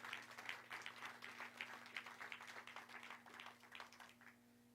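Applause from an audience in a church, steady clapping from a crowd that runs the whole time at an even level and slowly thins out toward the end, over a low steady hum.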